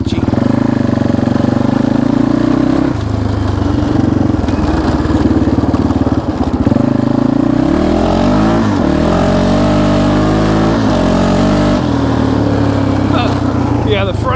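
Can-Am DS 650 quad engine running on a short test ride after a top-end rebuild, a steady loud drone with shifting revs and pitch throughout, a voice speaking over it.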